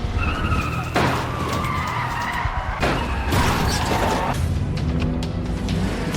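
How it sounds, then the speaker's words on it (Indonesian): Cars in a road chase skid hard, with long screeching tire squeals repeating over a roaring engine and sharp impact bursts, loud and close throughout. "Terjadi kejar-kejaran di jalan seperti di film Death Race."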